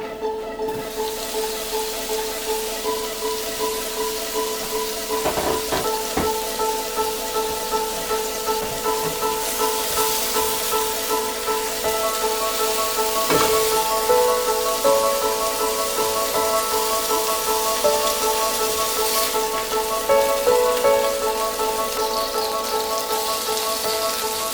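Tuna burgers frying in oil in a pan, giving a steady crackling sizzle with dense popping throughout, close and fairly loud, with a faint tonal hum underneath.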